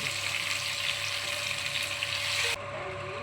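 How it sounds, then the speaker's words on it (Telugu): Gongura leaves sizzle steadily in hot oil in a pan, a continuous loud frying hiss with no talk, dropping slightly in level near the end. "ఇది ఆయిల్లో గోంగూర వేసుకుందాం మళ్ళీ"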